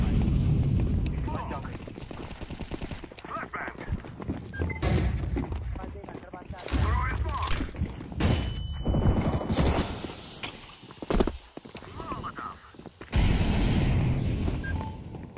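Scattered loud gunshot bursts in Counter-Strike 2 break through a match with a person talking over most of it, separated by quieter stretches.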